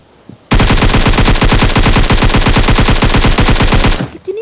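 SCAR rifle fire in a battle-royale video game: one long, loud, rapid automatic burst lasting about three and a half seconds, sharp and continuous, after a brief quiet start and before fading into faint game ambience.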